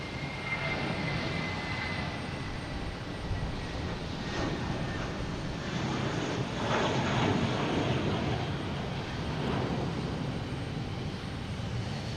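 A Delta airliner taking off at Boston Logan Airport, heard from a distance as a continuous broad engine roar and rumble that swells slightly midway, with no talking.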